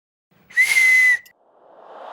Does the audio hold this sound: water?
no